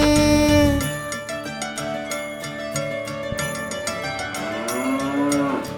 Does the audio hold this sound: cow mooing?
yes